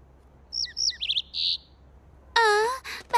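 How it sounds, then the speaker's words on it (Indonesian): A small cartoon bird in My Little Pony chirps a quick series of bright tweets, then gives a louder, longer warbling call, close and clear over quiet background hiss with no talk. "Oh, bahkan kicauan tidak masuk akal lagi."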